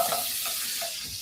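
Butter sizzling in a hot frying pan makes a steady, hissing crackle with a few soft stirring scrapes, fairly quiet and close, with no talking.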